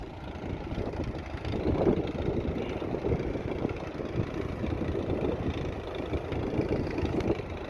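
An Allis Chalmers WD45 tractor runs during tillage work with a disc, its steady mid-pitched engine drone carrying on evenly with some wind buffeting at the microphone.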